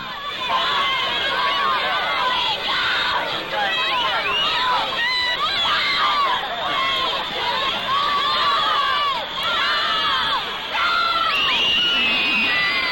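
A large crowd of girls screams and shrieks continuously at the Beatles' arrival by plane in 1964, high-pitched voices overlapping in a frantic, sustained din.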